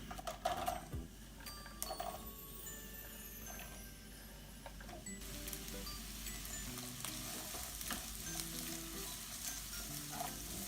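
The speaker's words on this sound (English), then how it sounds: "hot pan, I'm going to add olive oil. Okay, and then I'm going to add red onion and garlic inside." Red onion and garlic fry in olive oil in a hot pan. A steady, soft sizzle runs throughout, with occasional light clicks of stirring.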